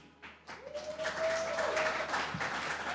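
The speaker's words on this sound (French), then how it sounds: "Et je vous demande d'applaudir l'intervenant" A lecture audience applauds the speaker at a philosophy talk, dense steady clapping that swells after a moment and holds, with a brief voice tone over the start.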